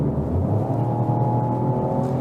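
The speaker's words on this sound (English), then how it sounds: "the engine sounds nice" Opel Corsa GS-Line engine pulling up through the revs on a winding road, a steady, droning hum heard from inside the cabin with road roar underneath and no one talking.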